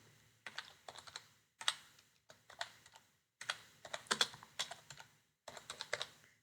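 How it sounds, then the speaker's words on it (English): Typing on a computer keyboard comes in quick close bursts of clicking keystrokes separated by short pauses, quiet and without speech. "So we're going to type Newman here."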